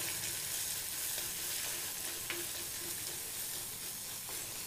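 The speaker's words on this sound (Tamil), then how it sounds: "வெங்காயம் கொஞ்சம் வணங்குற வரைக்கும் வணக்கிக்கங்க." Onions sauté in a pan for a banana stem stir-fry, giving a steady, soft sizzle and fry with light stirring scrapes and no one talking.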